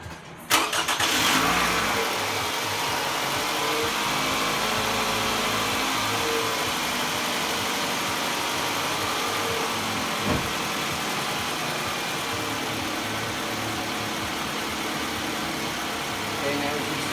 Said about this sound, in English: I'm going to go ahead and start the car and turn the air on max